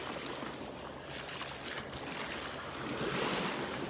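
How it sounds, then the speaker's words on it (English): Continuous rushing surf of ocean waves washing in on a beach in North Naples, Florida, broad and steady with gentle swells, mixed with some wind buffeting, no voices. "listen to the sounds of the waves"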